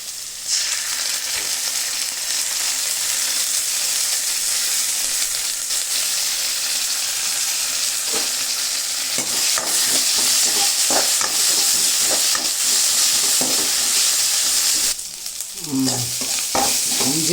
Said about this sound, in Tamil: உடனே இஞ்சி பூண்டு பேஸ்ட்டை கொஞ்சம் போட்டு, இஞ்சி பூண்டு வாசம் போகிற வரைக்கும் ஒரு வதக்கிடுவோம்.